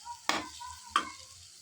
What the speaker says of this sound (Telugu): ఇదంతా కూడా బాగా మిక్స్ అయ్యేలా కలుపుకొని ఫ్రై చేసుకోవాలి